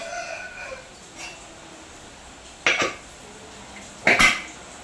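A pressure cooker lid is closed over a mushroom gravy, producing two sharp, close metallic clanks a second or so apart against a quiet kitchen background, without speech.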